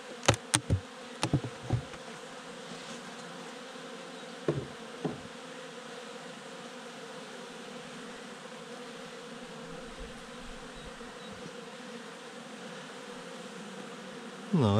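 Steady droning hum of many honeybees buzzing at a hive, with a few sharp knocks and taps near the start and middle.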